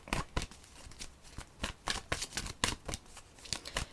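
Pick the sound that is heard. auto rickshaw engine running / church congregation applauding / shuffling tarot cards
shuffling tarot cards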